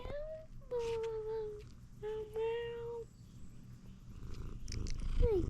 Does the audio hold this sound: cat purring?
yes